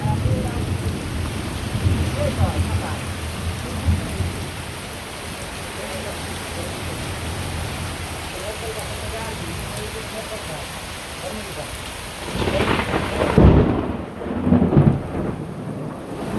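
Steady rain hisses throughout while low rumbles of thunder roll in, with a louder thunderclap near the end; voices are faint at times.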